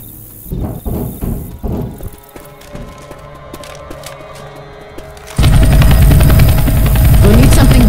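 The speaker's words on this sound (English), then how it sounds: "We'll need something big to signal that chopper" In Left 4 Dead 2, helicopter rotor thumping mixed with rapid gunfire bursts, then a loud sustained engine roar takes over in the final seconds.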